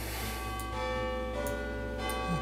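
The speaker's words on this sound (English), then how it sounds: "Nice little bell coming from there." A soft bell chime rings from a building in a city-building video game, heard faintly over steady ambient game music.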